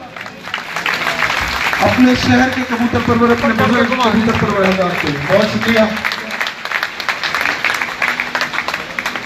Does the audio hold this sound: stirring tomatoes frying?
no